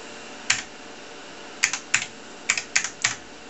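Date being typed on a TRS-80 Model 4P computer keyboard: about eight sharp, close key clicks in an irregular rhythm, with a couple of quick pairs, over faint background hum.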